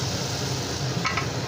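Ridge gourd curry sizzles and fries in oil in a pan, a steady close crackle with a faint clink of a utensil partway through.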